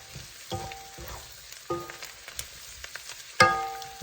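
Mushrooms frying in oil for a stir-fry of egg tofu, a soft continuous sizzle broken by several sharp clinks and scrapes of a utensil against the pan.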